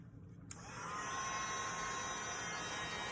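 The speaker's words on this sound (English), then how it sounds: "I'm going to bring in my heat tool, and we're simply going to just heat it until the" A handheld heat tool blows a steady, close whooshing hiss as it melts embossing powder on a handmade card, starting after a brief click and holding level to the end.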